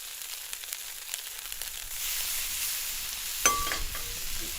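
Barbecue for an Appalachian BBQ sandwich hits a hot cooking surface; a near, steady sizzle rises out of near quiet and continues, with a brief scrape or clatter partway through.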